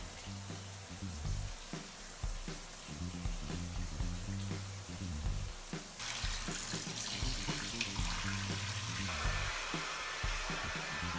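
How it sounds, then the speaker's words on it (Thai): Running water rinses a banana hair mask out of hair, a steady hiss and splash under rhythmic background music, with a louder, brighter rush of water partway through. "แล้วก็ ไปล้างออกค่ะ"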